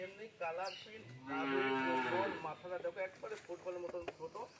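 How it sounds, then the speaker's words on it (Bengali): Brahman cross bull calf, about 10 to 12 months old, lets out a long, loud, close moo, with people talking around it before and after. "কি জাতের গরু এটা? ক্রস ব্রাহ্মা ষাঁড় বাচ্চা।"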